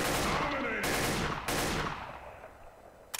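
AK-47 fire in the Counter-Strike: Source video game, a short loud burst of rapid automatic shots that cuts off abruptly and leaves a fading tail.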